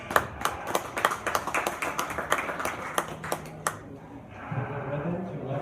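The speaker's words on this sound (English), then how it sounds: "Please give this young lady a round of applause." Scattered applause from a small audience at a fair livestock show, sharp separate claps over the first few seconds that thin out and give way to murmuring voices nearby.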